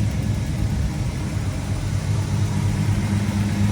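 A 1979 Pontiac Trans Am with a 455 engine and automatic transmission running: a steady, loud, deep rumbling idle throughout, even and unbroken.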